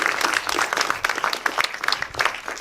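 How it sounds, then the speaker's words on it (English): An audience at a speaker summit breaks into a big round of applause, dense overlapping claps with distinct sharp hits, moderately loud and sustained throughout. "can we do a big round of applause for the one and only?"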